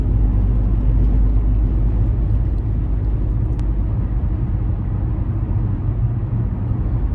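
A car drives along a Dubai road, producing a loud, steady low rumble of engine and tyre noise that holds constant from start to finish with no talking.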